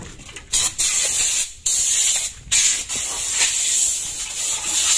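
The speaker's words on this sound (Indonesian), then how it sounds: "Oke, ini kita semprot." Cleaner sprayed onto an engine part while cleaning jelly-like oil sludge, heard as a steady close hiss with several short breaks between bursts.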